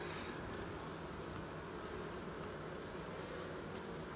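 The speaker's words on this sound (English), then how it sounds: "Seems like there's a lot more bees come back here." Bees buzz in a faint, continuous drone that holds steady throughout, with no voices present.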